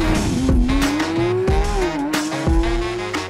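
Porsche 911 GT3 RS engine accelerating hard, a loud, close, continuous high-revving howl whose pitch climbs, dips briefly at a shift, then climbs again, with sharp transient pops along the way.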